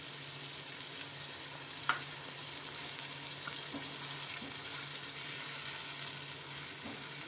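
Aloo gobi, fried potato and cauliflower, sizzles softly in a pan as a little water is added and the mix is stirred, with faint clinks of the spoon over a steady low hiss.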